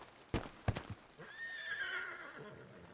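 A horse neighs in Red Dead Redemption 2, a loud rising whinny that carries on for about two seconds. A few sharp hoof or impact thuds come just before it.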